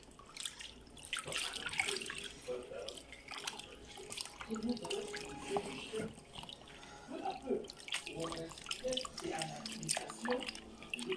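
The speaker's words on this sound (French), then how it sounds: "je vais commencer à laver mes poissons" Tap water runs and splashes steadily into a sink as fish are rinsed, with drips and light clatter mixed in and continuous from start to finish.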